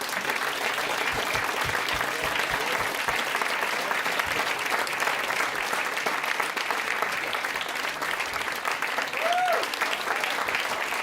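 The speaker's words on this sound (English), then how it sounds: "So maybe give Warren a big round of applause" An audience gives a long, steady round of applause after an onstage conversation with writer Warren Ellis, dense clapping sustained at even volume throughout.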